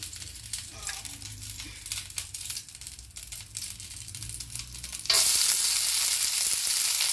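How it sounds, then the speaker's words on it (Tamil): Ghee heats in a kadai as herbs like pirandai and curry leaves go in for a herbal rasam. A low background crackle swells abruptly into a loud, steady sizzle partway through. "நெய் விட்டு ஃபஸ்ட்டு நம்ம வந்து இதெல்லாம் வதக்கி எடுத்துக்கலாம்."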